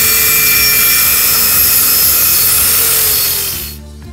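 A power saw on a crosscut station slices through a board, a loud, continuous high whine with steady cutting noise that holds for several seconds before the blade winds down and fades at the end.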